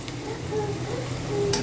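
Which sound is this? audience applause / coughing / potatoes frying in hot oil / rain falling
potatoes frying in hot oil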